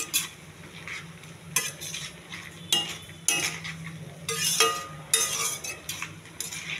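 A utensil scrapes and stirs ivy gourd (dondakaya) in a metal pan in repeated bursts, with a soft sizzle of frying underneath, close and fairly loud.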